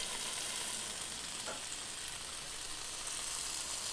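Kimchi Italian sausage burger patties fry in a pan with a steady, dense sizzle, constant and even at moderate level with no voices.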